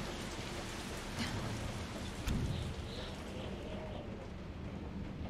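Steady rain in a video game, a dense even patter filling the scene with a soft rumble beneath and no talk over it.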